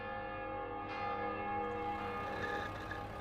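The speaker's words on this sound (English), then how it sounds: "In the distance, we can hear the bells of Viviers, Mondol, Carfontaine, and Baguères-Morvan." Church bells from several villages ring together far off, a sustained, overlapping wash of tolling tones that stays steady and fairly faint throughout, with no talking.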